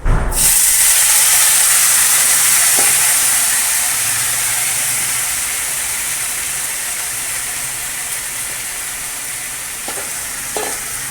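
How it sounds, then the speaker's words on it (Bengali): Potato and pointed gourd curry hits hot oil seasoned with panch phoron in a kadai, bursting into a loud, close sizzle and hiss that slowly settles into steady frying, with faint clinks of utensils. "কড়া বসিয়ে দিয়েছি তেল দিয়ে পাঁচফোড়ন দিয়ে দিয়েছি এবার তরকারিটা ঢেলে দেবো"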